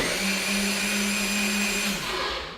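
Countertop blender whirring steadily as it blends a turmeric latte, a loud continuous motor drone with a sustained tone that cuts off near the end and fades out.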